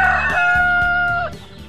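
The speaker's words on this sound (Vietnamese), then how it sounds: "Tiếng gáy của anh to vang đã đánh thức cô chủ dậy sớm." A cartoon rooster crows loudly and close, one long sustained cock-a-doodle-doo over a rhythmic music backing, ending abruptly near the end.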